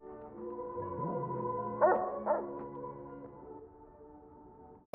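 A dog named King barks and yelps in a muddy-road scene from the Fargo TV series, with a few sharp, loud calls at close range over a low background bed.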